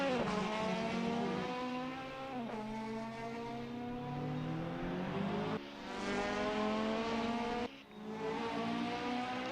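A mid-engine Lotus race car in a racing video game at Bushy Park Circuit, its engine note climbing and dropping through repeated gear changes and revs, loud and continuous with brief cuts between shifts, no voices.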